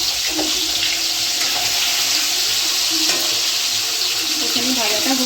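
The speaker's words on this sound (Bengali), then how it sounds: "মাছগুলো ভাজার জন্য দিয়ে দিচ্ছি।" Hilsa fish pieces fry in hot oil in a pan, giving a steady, dense hiss and crackle of sizzling that continues evenly throughout, with no talking.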